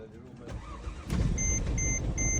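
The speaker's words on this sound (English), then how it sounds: "after 10th attempt to turn it on the car, it jumps right up." A car engine cranks and catches, powered by a VTOMAN X7 4250A portable jump starter after repeated failed attempts, then settles into a loud, steady run close by, with short, high, evenly spaced beeps sounding over it.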